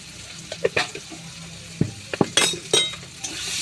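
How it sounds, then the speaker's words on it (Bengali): Spoon stirring a spice mixture with salt and sugar in a pan for a Bengali potol chingri dish, with scattered scraping clinks and soft sizzling close by. "আবারও ভালো করে মিশিয়ে নিচ্ছি।"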